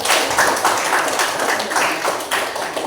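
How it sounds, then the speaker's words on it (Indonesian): A group of people clapping in a classroom or meeting room for group 3, a dense, steady patter of many hands that carries on without a break. "Beri tepuk tangan untuk kelompok 3."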